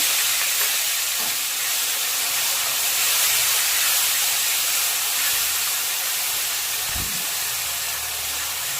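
Onion paste sizzles steadily in hot oil in a pan, a continuous close hiss with one brief knock near the end, and no talking.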